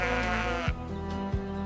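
Sheep on a farm bleat close by, one long wavering bleat followed by shorter overlapping calls, loud and alone.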